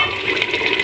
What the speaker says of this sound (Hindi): अब इसमें थोड़ा सा मैं पानी डाल दूँगी